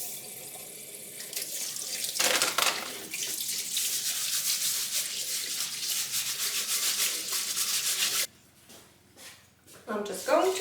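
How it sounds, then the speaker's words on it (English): A kitchen tap runs as pudding rice is rinsed under it, giving a steady rushing splash with rubbing and swishing that cuts off near the end, followed by a few brief knocks. "I'm using pudding rice today, and I'm just going to rinse this into the top for a bit."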